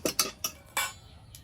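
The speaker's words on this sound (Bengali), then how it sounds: "কড়াইটা উনুনে আবার বসিয়ে দেবো" A metal wok (kadai) is set back onto a stove, giving a quick series of hard clanks and knocks over about a second before settling into quiet.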